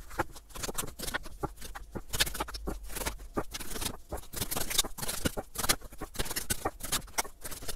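Tarot cards are shuffled by hand for a reading, giving a quick irregular run of papery riffles and slaps, close and steady with no talking.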